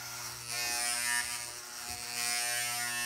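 Electric hair clippers fitted with slanted tapering comb guards buzz steadily at close range while cutting short hair, the tone swelling slightly louder as the blades move through the hair.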